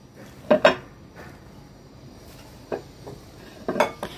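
Chicken salad is tossed in a bowl, a few separate clinks and scrapes of a utensil against the dish in small clusters, fairly close over a quiet background, no voices.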